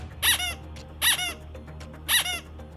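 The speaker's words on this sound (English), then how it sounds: "That would be a squeaky toy. It is a rubber duck." A squeaky rubber duck toy squeezed three times at an even pace, each bright, high-pitched squeak sounding close and clear against a quiet background.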